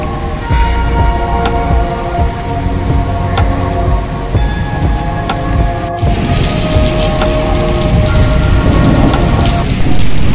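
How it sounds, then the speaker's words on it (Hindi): Morning rain falls steadily during a hot spell in Toba Tek Singh, Pakistan, a loud, dense patter on surfaces and garden foliage, continuous and close, with occasional sharper drips and no voices. "टोबा टेक सिंह में मुसलसल शदीद गर्मी की सुबह बारिश शुरू हो चुकी है।"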